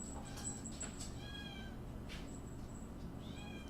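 A cat meows repeatedly, a few drawn-out cries over a steady background hiss along with a high tone, no talking.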